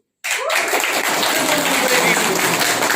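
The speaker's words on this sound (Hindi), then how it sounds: "उनके लिए जोड़ा तालियां।" An audience at a team competition result announcement breaks into sudden, loud applause for a winning team, a dense, steady burst of clapping that continues without a break.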